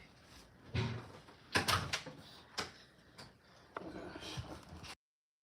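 Indoors, a door is shut and locked, heard as a few sharp knocks and clicks with a scraping latch turn, fairly quiet and close, and a soft voice murmurs between the clicks.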